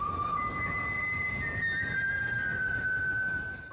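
A person whistles the US national anthem, a clear sustained melodic whistle holding long pure notes that slide between pitches, close and fairly loud over a low background rumble.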